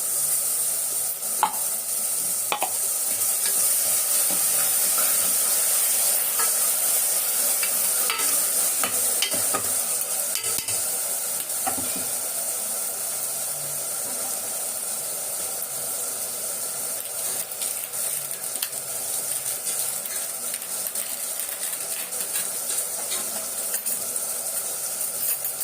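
Tomato and onion sautéing in a pan give a steady sizzling hiss, broken by scattered clicks and scrapes of stirring, moderately loud and close throughout with no speech.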